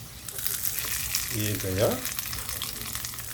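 Hot tempering oil with spices crackles and sizzles as it is poured over freshly made coconut chutney, a short burst of frying noise over a low kitchen background. A voice speaks briefly.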